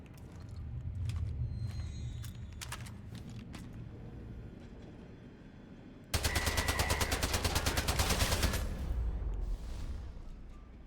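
Rapid automatic gunfire from the player's weapon in the video game Atomfall, fired at turrets: a sustained, loud burst of closely spaced shots in the second half, following quieter scattered game sounds and thuds.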